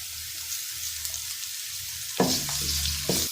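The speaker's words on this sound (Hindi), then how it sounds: "प्याज हल्का सा सॉफ्ट हुआ तो हमने इसमें लहसुन अदरक का पेस्ट ऐड कर दिया है। अब हम इसको 2 से 3 मिनट तक ऐसे ही भूनेंगे" Soft, steady sizzling of garlic ginger paste frying in a pan with softened onions, joined near the end by a few louder scraping stirs, close up with no talking.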